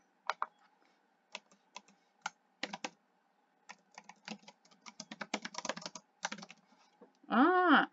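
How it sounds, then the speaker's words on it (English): Typing on a computer keyboard: scattered sharp key clicks, then a quicker run of taps, close and quiet, followed by a short tonal beep at the end. "I typed again"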